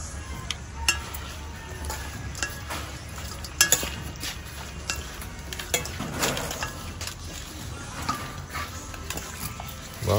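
Utensils stir and toss a salad dressed with sweet-sour fish sauce in a home kitchen, giving soft wet mixing sounds and occasional light clinks of metal against a bowl, close and continuous without speech.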